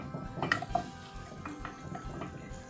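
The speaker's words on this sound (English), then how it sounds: "Give it a stir" Tomato curry being stirred in a pan with a utensil, several light metallic scrapes and clinks at an uneven pace, close but fairly quiet.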